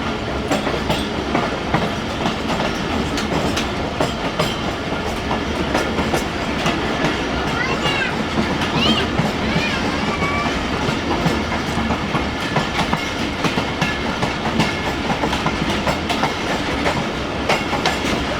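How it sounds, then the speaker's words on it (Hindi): Greenland Express passenger train in Pakistan running steadily, a loud continuous rumble with clickety-clack of wheels on rail joints and faint metallic squeals, heard close throughout with no talk. "पाकिस्तान की number 1 train the great Greenland express."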